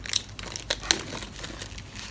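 Plastic packaging of a K-pop album is crinkled and pulled open by hand after being cut with scissors, with a few short, close crackles and rustles and no talk.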